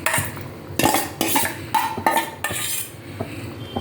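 Cooked dal tipped into a pot of boiled peanuts and chickpeas for a Tamil puli kootu, with metal spoon clinks and scrapes against the pot at irregular intervals, close and moderately loud, no talking.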